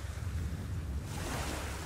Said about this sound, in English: The ship sails into a bad storm, and Sinbad lands in the sea